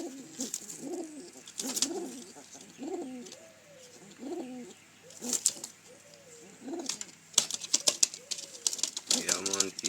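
A pair of pigeons or doves, a male and a female, cooing close by in soft repeated throaty rolls, while someone talks over them and sharp clicks and taps break in now and then.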